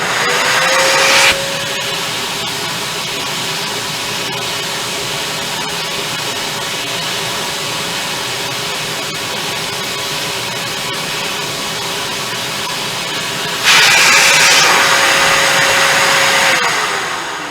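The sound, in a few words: vacuum cleaning a vinyl record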